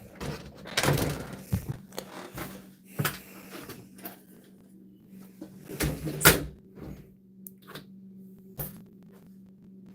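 A house door opening and closing at night, with several sharp knocks and thuds of handling and latching spread through the clip over faint background.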